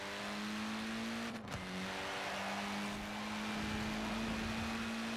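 Steady race car engine drone from Forza Horizon 4, holding a constant pitch throughout with a brief dip and shift as the car changes gear or brakes partway through, loud and continuous with no talk.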